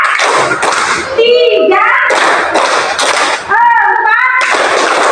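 A class of children clapping hands in rhythm in a classroom, bursts of group claps alternating with voices chanting and counting along, loud and close.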